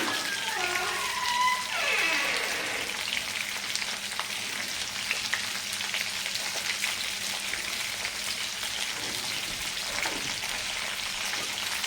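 Chopped vegetables for Bengali shukto frying with salt in a pan, a steady soft sizzle with faint stirring scrapes running continuously at moderate closeness.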